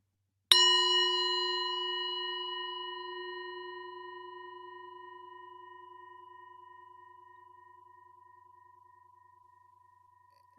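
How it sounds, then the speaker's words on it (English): A single bell rings out clearly once during forest bathing on Japan's Mt. Inari. Its pure, sustained tone fades slowly over about ten seconds in near silence. "only open your eyes when the sound of the bell completely goes away"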